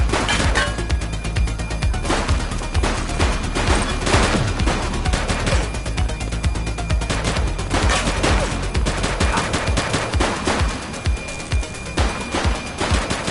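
Sustained automatic gunfire in a police shooter video game, loud and dense with rapid repeated shots and heavy booms filling the whole stretch.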